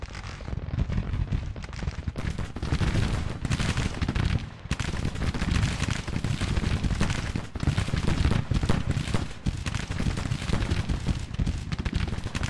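Dense, continuous battle din of massed rifle fire and booming artillery in a Civil War-era Grand Tactician game engagement, loud and unbroken crackling volleys with heavy low rumbles throughout.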